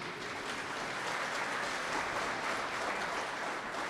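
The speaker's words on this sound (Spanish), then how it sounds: "Un aplauso a los de Fortín." Audience claps together for visiting guests from Fortín, a continuous, fairly distant patter of many hands at a steady level from start to finish.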